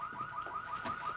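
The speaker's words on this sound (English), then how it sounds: "is that our car alarm?" A family car's alarm sounds nearby with a steady, repeating electronic warble, cycling rapidly and evenly throughout, fairly faint and alone without speech.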